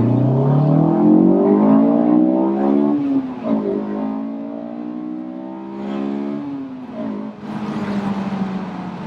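A Honda S2000 accelerates hard through the gears toward 8,500 RPM, each climbing engine wail broken by a shift, then rising again, heard from inside the car and fairly loud.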